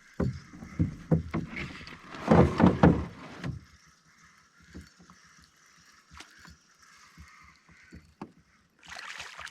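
Canoe paddle strokes dip and pull through a quiet lake on a fall brook trout fishing trip in Algonquin, a run of close, rhythmic splashes and knocks that fade to softer, sparser strokes.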